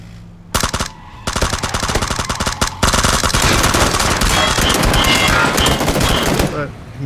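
Automatic gunfire in the PUBG battle royale game comes from a passenger firing out of a vehicle. Long, loud, continuous rapid bursts rattle without pause over several seconds, amid engine and combat noise.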